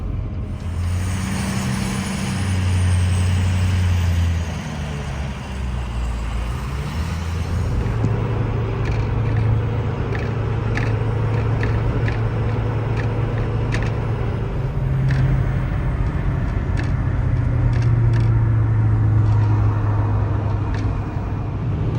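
Car driving through Fairfield, Connecticut: a steady low road rumble and tire noise from inside the vehicle, continuous for the whole stretch with faint ticking and clicks over it.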